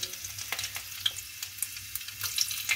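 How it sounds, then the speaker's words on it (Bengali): Garlic cloves fry in hot oil for restaurant-style chow mein, giving a soft, steady sizzle with irregular crackles and pops at moderate distance. "আমি এতে রসুন কোয়াগুলো অ্যাড করছি।"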